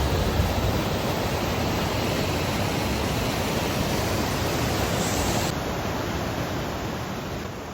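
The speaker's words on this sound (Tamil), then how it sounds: "தண்ணி அப்படியே வந்து இப்படிக்கா போகுது." Constant roaring rush of flowing water near Moro Rock in Sequoia National Park, loud and broadband like a nearby cascade, steady throughout with no talking.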